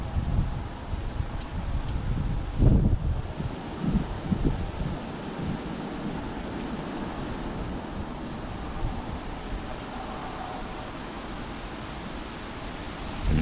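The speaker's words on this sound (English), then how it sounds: "The wind, that's for sure. Here it comes." Strong wind gusting during a thunderstorm, a steady loud broadband roar with buffeting on the microphone and a heavier gust early on, no voices.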